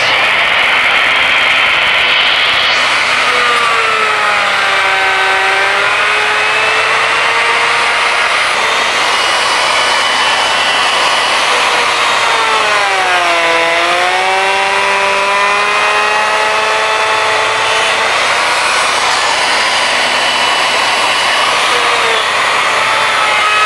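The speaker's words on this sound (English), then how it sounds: "using a 3/4 inch core box bit that's plunged about 3/8 of an inch deep and positioning the router at 2 inches off of center" A woodworking router fitted with a 3/4 inch core box bit plunged 3/8 inch deep cuts a groove along a piece of wood for a table lamp, a loud continuous whine rising and dipping in pitch as the cut progresses, with no talking.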